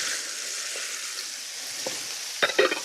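Onions sizzle and hiss steadily in a hot pan that has just been used to sear pork tenderloin, with a few clacks of stirring near the end.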